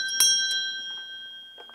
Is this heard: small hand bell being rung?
yes